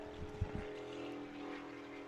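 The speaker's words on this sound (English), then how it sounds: "The sound of motorcycles heading by on I-90." Motorcycles heading past on the I-90 highway near a baseball game, a faint, steady distant engine drone with a couple of soft low thumps at the start.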